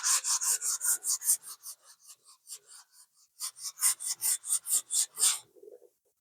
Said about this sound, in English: Now I'm just going to do some sanding along the edges here